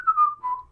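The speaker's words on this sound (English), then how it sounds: "I was going to whistle you a song while we waited" A person whistling a tune, a brief, clear, close whistled phrase of a few sustained notes gliding slightly downward, lasting under a second with nothing else around it.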